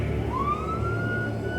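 A police siren rises in a steady wail over low rumbling road noise in a dramatized horror story, fairly close and loud.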